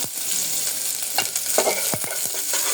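Onions drop into a hot pan and sizzle steadily, with several quick scraping strokes of a spatula stirring them, close and clear with no talking.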